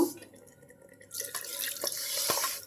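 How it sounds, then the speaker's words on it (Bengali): After a near-silent start, a sudden rushing splash of water is poured into a wok used for cooking beef tripe, continuing loudly to the end. "এখন আমি এখানে কড়াইটা ধুয়ে অল্প একটু এক কাপ পরিমাণ পানি দিয়ে দিব"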